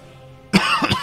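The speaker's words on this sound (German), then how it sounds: "Da hustet wieder einer ab." After a quiet moment, someone gives two or three short, sharp coughs close to the microphone, loud and abrupt.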